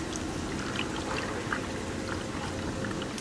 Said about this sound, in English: So I'm just pouring it.